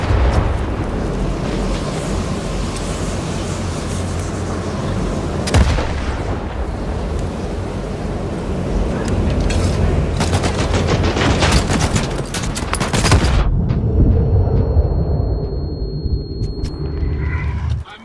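Sustained gunfire and explosions in the shooter game S.T.A.L.K.E.R. 2, with dense bursts of rifle and machine-gun fire and heavy booms rolling continuously at close range, loud throughout and ending in a quieter stretch of scattered shots.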